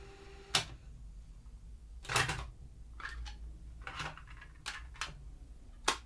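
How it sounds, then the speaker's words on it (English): Sporadic mechanical clicks and clunks of a cassette deck mechanism, about six sharp snaps spaced irregularly against a quiet background hum. "Six minutes and 7 seconds of cassette tape sounds."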